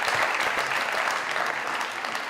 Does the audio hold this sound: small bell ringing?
no